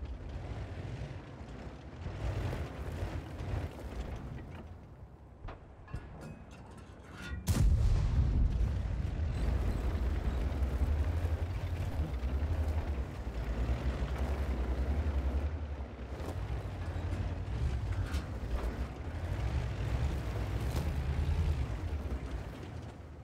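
Tank cannon fire in World of Tanks: a heavy boom breaks in partway through, followed by a sustained loud low rumble of battle noise after a quieter stretch.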